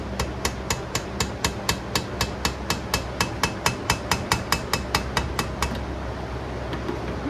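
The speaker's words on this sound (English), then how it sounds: "I'm going to use the screwdriver to tap this around the threads here." A screwdriver taps around the threads of a gearcase carrier on a vintage Mercury outboard, making about twenty sharp, evenly spaced metallic taps close by, which stop near the end over a low background hum.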